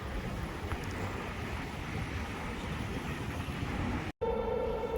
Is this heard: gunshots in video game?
no